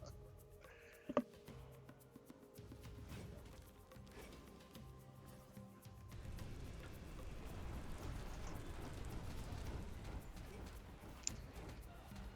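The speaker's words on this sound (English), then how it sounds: "That was another lightning bolt." A lightning bolt spell in the video game Minion Masters lands with sharp crackling cracks over a dense rain-like rumbling wash, faint in the game mix.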